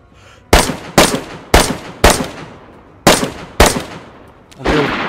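Sharp, loud rifle shots from a firefight in DayZ crack out at a steady rhythm, seven in all, each followed by a short echoing tail before the next.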